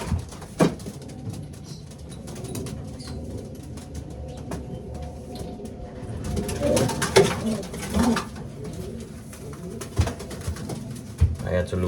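Racing pigeons in a loft coo in low, repeated murmurs, with occasional louder coos and wing flutters over a steady background, and a person talks intermittently nearby.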